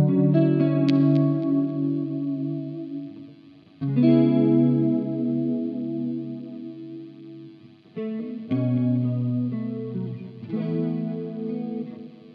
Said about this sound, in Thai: ก็คราวนี้ผมลองปรับว่าให้มันเป็นเหมือนคอรัสอ่อนๆดูครับ